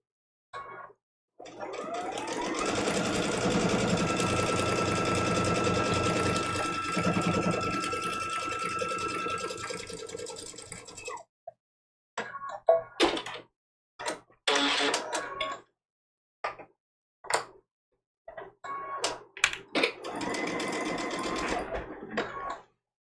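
A sewing machine stitches a quilt seam in one long steady whirring run, followed by several short, separate bursts of stitching as the fabric is guided.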